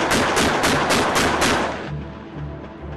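A Bofors 57mm naval cannon, the gun fitted to the UK Type 31 frigate, fires a loud rapid burst of about six evenly spaced shots, followed by a rumbling fade.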